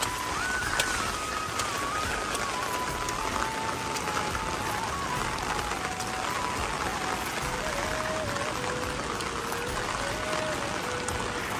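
Heavy cloudburst rain in Munar village, Bageshwar, Uttarakhand, pours in a dense, steady hiss with constant pattering, loud and unbroken, while a faint tone slowly drifts lower underneath.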